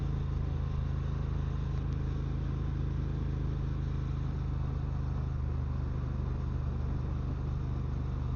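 A Triumph T120 motorcycle is ridden along a road near Hout Bay, Cape Town, giving a steady, continuous engine drone with heavy low rumble and wind noise throughout, no voices.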